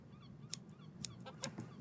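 A hen in the video game The Hand of Glory gives a few sharp, honking clucks at irregular intervals, quiet against a soft low background.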